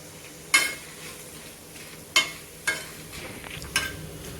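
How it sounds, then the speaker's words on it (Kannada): Fifteen dried red chillies dry roasting in a pan, a quiet papery rustle with four sharp clinks or scrapes of the spatula spaced irregularly. "ನಾ ಇಲ್ಲಿ 15 ಒಣಮೆಣ್ಸಿನ್ಕಾಯಿನ ತೊಗೊಂಡಿದ್ದೀನಿ. ಇದನ್ನು ಹಾಗೆ ಡ್ರೈ ರೋಸ್ಟ್ ಮಾಡ್ಕೊಳ್ತೀನಿ."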